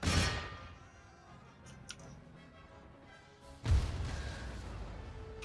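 Howitzer artillery in the Empire Total War game fires in sharp booming reports, one at the start and another heavy blast near the end, with faint clanks and ticks in between.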